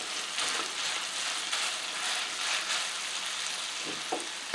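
Lean Tennessee sausage frying in a pan gives a steady, close sizzle and crackle that holds at an even level throughout, with a few small pops near the end and no talking.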